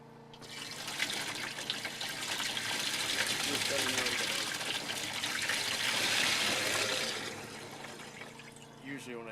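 Water driven by a utility pump fitted with a 2-inch adapter gushes steadily into a trash can, a loud continuous pouring rush that swells and holds for several seconds before tapering off, with no talk over it.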